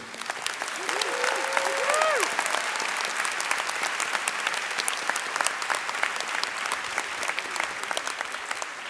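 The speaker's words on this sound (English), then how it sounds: "Let's give her a cheer." Audience at a Berkeley Engineering graduate commencement applauds and cheers, dense sustained clapping with a few whoops, loud and continuous, with faint talk underneath.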